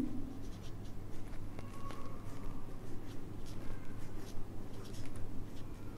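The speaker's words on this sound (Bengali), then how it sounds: "তাহলে আমি এই জায়গায় লিখি" Pen or pencil writing by hand on paper during an accounting lesson, a soft continuous scratching close by with steady low background hum.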